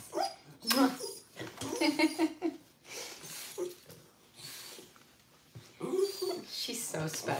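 A miniature schnauzer whimpers softly in short, high, intermittent bursts during a pet grooming and drying session, mostly under a woman's close, affectionate talking.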